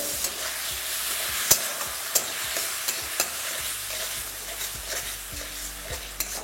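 Spice masala for masala potatoes stirred and frying in a pan with a little water, a steady sizzle under repeated sharp scrapes and clicks of the spoon against the pan, close and fairly loud.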